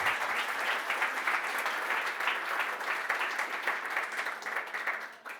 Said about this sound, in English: Your applause.